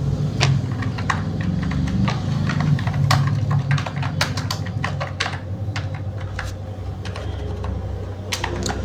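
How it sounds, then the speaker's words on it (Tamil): A computer keyboard clatters as a street name is typed into an address field, with irregular quick key taps and pauses over a low steady hum, close and with no talking. "இப்போ அட்ரஸ் லைன் 1ன்ற இடத்துல உங்களுடைய தெருவு பேரை வந்து டைப் பண்ணிக்கோங்க"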